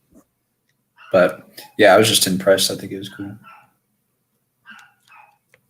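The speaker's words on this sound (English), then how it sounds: "they're barking at the horse" Dogs bark in the background while people talk over them, a few short barks partly buried under the conversation.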